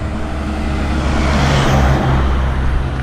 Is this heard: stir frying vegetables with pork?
no